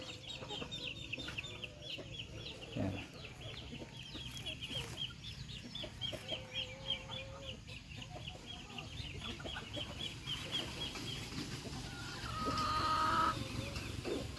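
Native chickens clucking outdoors on a farm, a steady scatter of clucks and soft calls from several birds at mid distance over a continuous low background, with one brief louder call near the end.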